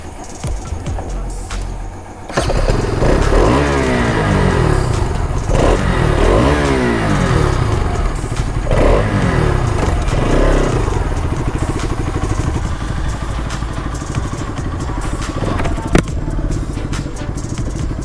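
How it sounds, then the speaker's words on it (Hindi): A Bajaj Pulsar RS200 motorcycle with a vibration issue, due for an engine oil change, starts and rides off for a test, its engine revving through several gear changes, loud and near, then a steady drone. "तो गए जी, ये गई हमारी बाइक टेस्ट के लिए,"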